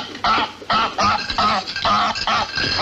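A goose honks repeatedly in loud, close, nasal bursts, about six calls spaced roughly half a second apart in an irregular rhythm.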